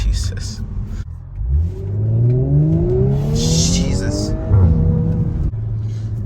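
An ABT-tuned Audi S4 engine revs hard, its pitch sweeping up and down in loud, near bursts with a few sharp exhaust crackles, while someone talks over the rumble.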